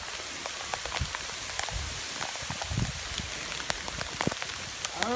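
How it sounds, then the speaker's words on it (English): Pea-sized hail falls on a surface outdoors, making a steady dense patter of small sharp ticks and clicks, close and fairly loud, with no talk over it. "it's like a lot of hail"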